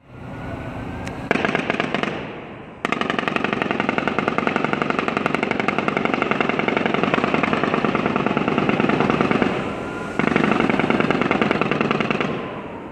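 Sustained volleys of automatic gunfire from the Las Vegas shooting crackle continuously for several seconds at a time. Two bursts are broken by short pauses, and the sound is loud and dense, with no talk.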